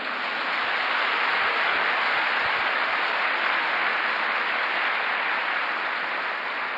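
Steady, dense applause from a large congregation at a Sunday church service, loud and sustained throughout with no voices standing out.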